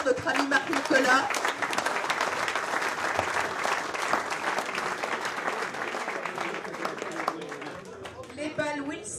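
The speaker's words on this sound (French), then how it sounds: "On peut l'applaudir très fort, notre ami Marc-Nicolas." An event audience at a putting competition applauds a sponsor. Loud, dense clapping with some crowd chatter starts strongly, then gradually thins and softens toward the end.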